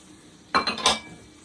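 Spaghetti sauce with chopped green pepper being stirred in a pot, a brief metallic scrape and clink of a spoon against the pot for about a second, close and moderately loud, with no talking.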